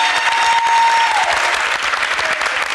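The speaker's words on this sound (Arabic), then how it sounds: "ما صفقتوش عليهم بالقدا صفقوا على بن عييد" Loud, dense audience applause at a live television show, steady hand clapping close by for a few seconds with a faint whistle or tone over it.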